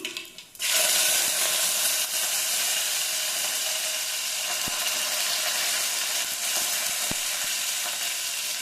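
Curry leaves hit hot oil for sambar with an abrupt burst, then a steady, dense sizzle and crackle continues close by without a pause.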